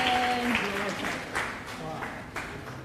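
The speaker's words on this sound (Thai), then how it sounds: "ถ้าทุกคนพร้อมแล้วขอเสียงปรบมือต้อนรับให้กับมิสเตอร์เซอร์เกย์อาราคริสกี้" Audience applause welcoming speakers at a TEDx press event, moderate clapping from a modest crowd that fades gradually, with a voice speaking over the start.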